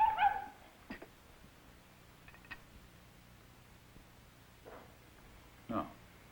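A dog gives a few faint, scattered whimpers and yips amid quiet background in an old film scene, separated by pauses, with a short louder bark-like burst near the end.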